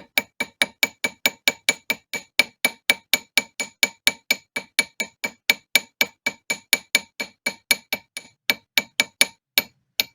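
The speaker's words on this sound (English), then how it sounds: "I'm gonna hammer where I solder it." An 18k yellow gold band is hammered at its soldered joint on a ring mandrel, producing a fast, steady series of about forty sharp metallic taps, close and clear, with no speech.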